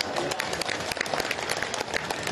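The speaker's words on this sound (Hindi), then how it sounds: "एक वो छोटे बच्चों के लिए एक जोरदार ताली बजा दी" Loud, dense applause from an audience at an Urdu book fair, honouring small children, sustained throughout with sharp clapping peaks and a busy crowd texture.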